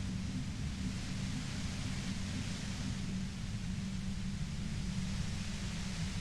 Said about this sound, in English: Voice trails off in white noise in your head.